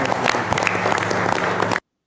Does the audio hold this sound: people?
yes